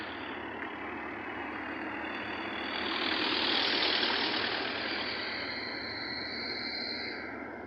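Trucks sit idling in a queue at a port in Bang Saphan, Prachuap province, Thailand, a steady broadband engine rumble that swells slightly midway and holds with no talk over it.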